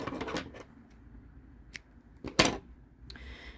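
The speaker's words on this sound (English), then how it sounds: "So we're going to cut yarn." Scissors snip through crochet yarn, a few quick close clicks and crisp snips over quiet handling noise.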